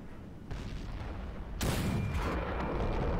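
Tank cannon fire in an M46 Patton tank game: a sudden, loud, sharp blast partway through, with a rumbling tail, following a lower engine-like rumble.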